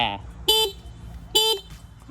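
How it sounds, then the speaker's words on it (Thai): Two short, nasal beeps of a Yamaha Spark LX motorcycle horn, evenly spaced about a second apart, close by over faint background noise. "แล้วก็เสียงแตร"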